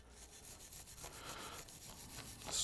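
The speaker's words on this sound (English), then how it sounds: "Scrub it with a brush." A brush scrubs the rear brake pad tins of a 2005–2016 Toyota RAV4 in a continuous, rhythmic rasping that grows louder toward the end, with no voices.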